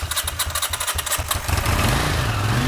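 An abandoned Honda CX500 motorcycle, unused for 42 years, cranks with rhythmic starter chugging before the engine catches and settles into a loud, steady running rumble close by.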